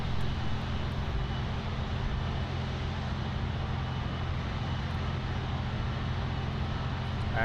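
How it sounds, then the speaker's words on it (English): A Boeing 767-300 cargo freighter on approach at Miami International Airport, a steady broadband jet roar with a low rumble holding at an even level throughout. "next on approach is the Lang Cargo 767-300 freighter"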